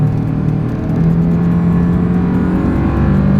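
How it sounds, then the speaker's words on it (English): A 2025 Toyota Land Cruiser accelerates hard in sport driving mode, its engine building a loud, sustained drone with a steady rising tone heard from inside the cabin. "let's see how quickly we can get our new 2025 Toyota Land Cruiser here up to speed"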